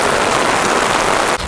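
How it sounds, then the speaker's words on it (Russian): Heavy rain pours steadily as a loud, dense hiss over an outdoor used car market in Vladivostok, continuous and close with no voices. "Дождь, кстати, усиливается."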